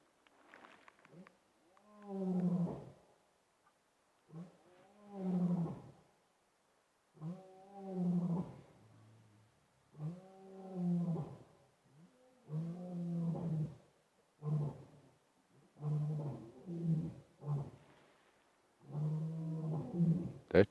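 A male lion roars at night in the wild, a series of deep, rhythmic grunting roars repeating every couple of seconds, moderately distant and standing alone without talk.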